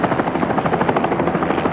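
A helicopter flies near river rapids during a film shoot, its rotor chop pulsing steadily and loud over a broad roar, with no voices.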